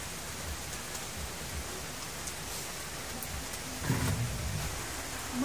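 Steady rain falls outdoors during a flood, a faint, even hiss of drops with a slightly louder patter near the middle and no talking.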